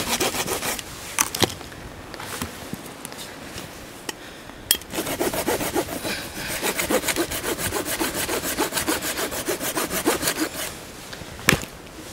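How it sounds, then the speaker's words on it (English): A Silky pocket folding saw cuts through wood at a winter campsite in freezing rain and snow, its close, steady back-and-forth rasping strokes repeating quickly for several seconds with a few sharp knocks in between. "So glad I've got my trusty saw. Silky pocket boy."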